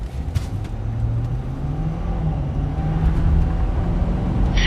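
A 2026 Ford F350 Power Stroke diesel pickup accelerates hard toward 60 mph, with a loud steady engine drone and road roar heard from inside the cab, the pitch climbing slightly as speed builds.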